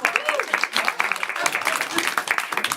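Steady applause from a crowd at a New Year's Eve show, dense overlapping claps continuing throughout with a lively, roomy feel.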